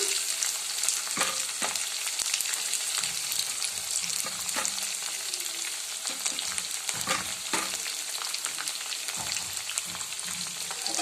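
Chopped onion fries in hot oil for upma with a dense, continuous sizzle and crackle, close by and fairly loud, punctuated by scraping stirs throughout.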